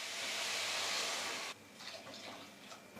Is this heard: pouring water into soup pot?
yes